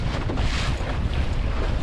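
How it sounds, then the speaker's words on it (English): Steady roar of strong wind gusts of about 20 mph buffeting the microphone while sailing, with rushing water beneath, loud and continuous throughout, no voices. "So these gusts are supposed to be 20 mile an hour."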